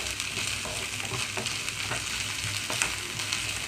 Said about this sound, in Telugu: అల్లం వెల్లుల్లి వేసిన తర్వాత 1 నిమిషం పాటు అయితే నేను హై ఫ్లేమ్లో ఉంచాను